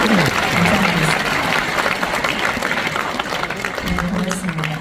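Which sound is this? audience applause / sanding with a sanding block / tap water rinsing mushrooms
audience applause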